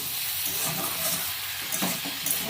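Vegetables sizzling while being sautéed in a pan after water is added, making a steady, close, steamy hiss with faint stirring scrapes near the end.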